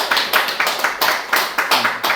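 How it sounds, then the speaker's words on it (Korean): A small audience at a Korean book presentation gives a presenter a welcome, a few close hands clapping in rhythmic bursts roughly every quarter second. "큰 박수로 맞이해 주십시오."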